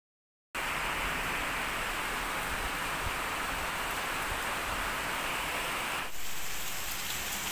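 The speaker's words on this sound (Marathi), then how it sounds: "बघू शकाल तुम्ही आत्ता पाऊस पडतोय तो" Heavy rain pours steadily in Kankavli, Konkan, on an evening in the monsoon, a dense, even hiss of water close by with no pauses, swelling slightly louder near the end.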